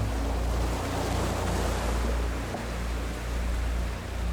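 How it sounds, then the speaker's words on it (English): Ocean waves wash onto a beach in a continuous, full roar of surf with low rumbling swells and gentle surges, close and steady, with no voices. "Can you feel the ocean water flowing towards you?"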